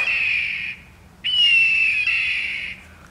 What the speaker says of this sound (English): How about a red-tailed hawk?